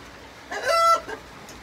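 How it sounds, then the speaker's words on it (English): A chicken clucks close by inside a coop with layer boxes, a single short burst of clucking over quiet background hiss. "This is the chicken coop inside."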